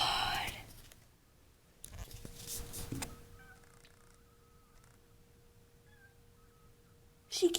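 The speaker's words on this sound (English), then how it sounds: "She keeps meowing." A cat meows faintly and repeatedly against a quiet, damp outdoor background, with soft whispered voices nearby and a louder rustle at the end.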